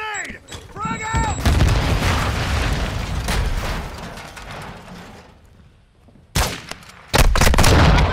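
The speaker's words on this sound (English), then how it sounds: "Throwing grenade! Frag out!" A frag grenade goes off in Call of Duty: Modern Warfare II amid loud sustained battle noise and booms. Sharp blasts and gunfire cracks punch through near the end, and voices are heard in the mix.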